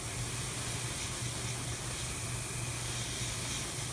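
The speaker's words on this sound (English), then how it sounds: "Every now and then you gotta clear the airbrush." An airbrush being cleared gives off a steady, dense spraying hiss that runs unbroken at close range, with a faint low hum beneath it and no voices.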